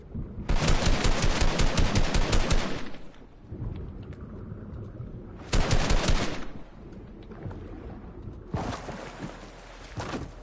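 Automatic weapon fire in Fortnite on PS5, loud rapid bursts of shots in three separate volleys with quieter game ambience between them.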